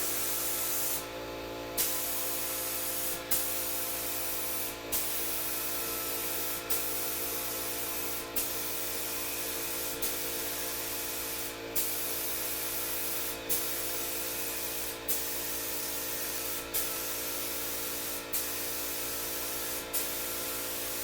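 A paint sprayer hisses steadily while applying Dixie Belle mineral chalk paint, a continuous close airy spray broken by short, regular pauses as the trigger is released and pressed again.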